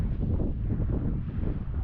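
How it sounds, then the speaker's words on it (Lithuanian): Strong, cold wind in Croatia buffeting the microphone, a dense low rumbling roar that gusts steadily without pause. "Tik labai šalta, didelis vėjas."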